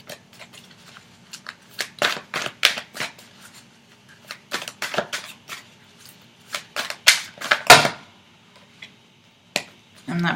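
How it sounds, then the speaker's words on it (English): Tarot cards are shuffled by hand in a series of sharp riffles and taps, irregular bursts spread across several seconds, close and crisp, with a person talking between them. "I need to shuffle again"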